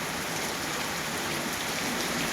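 Unseasonal rain falls in Dhande village as a dense, even hiss of drops, steady and close with no pauses and no voices.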